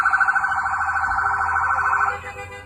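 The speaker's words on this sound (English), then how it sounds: "federal vehicles start moving toward the maroon SUV, with sirens and lights blaring" A loud, rapidly warbling electronic siren on federal vehicles wails close by, steady and then tailing off at the end.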